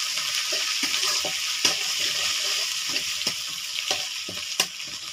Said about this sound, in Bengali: মশলা বাটা, কাঁচা ঝাল বাটা, সব দিয়ে আমি ভালো করে কষিয়ে নেব।